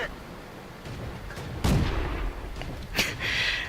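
A Panzer B2 tank's main gun fires in World of Tanks with two heavy booming shots about a second apart, each a sharp blast with a rolling tail over low battlefield rumble.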